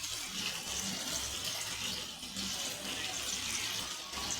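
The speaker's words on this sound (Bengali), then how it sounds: "জল দিয়ে ভালো করে নাড়াচাড়া করে নেবো, বেশি একটা জল দেবো না" Water is poured into a pan of small fish curry with eggplant, a steady close hiss and splash that runs unbroken through the whole moment.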